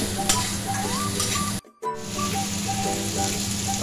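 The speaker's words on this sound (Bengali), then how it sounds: "মশলাগুলো আমি কষে দেব।" Spices sizzle and hiss in a hot pan over a medium-low flame with chopped onion as they are stirred. The frying is steady and close, cut by a brief silent break partway through.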